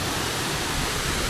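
Cascada El Chiflon, a large waterfall in Mexico, gives a steady, dense roar of falling water. The sound is loud, even and continuous, with no voices.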